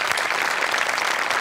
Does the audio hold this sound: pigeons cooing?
no